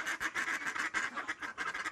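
A white-fronted goose, a decoy bird at a hunting hide on the Baie de Somme, calls in a rapid series of nasal, cackling notes, faint and steady with no talk.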